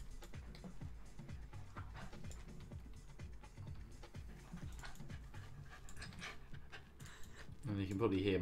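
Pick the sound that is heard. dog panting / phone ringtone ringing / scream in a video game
dog panting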